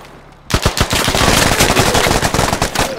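Automatic gunfire in the military shooter game Squad: after a brief quiet moment, loud rapid bursts of shots rattle continuously, close and sharp, with no voices over them.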